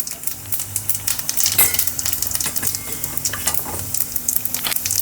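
Cumin seeds sizzling in hot oil for a vaghareli khichdi tempering, a loud, close crackle with rapid popping bursts and light utensil scrapes against the pan.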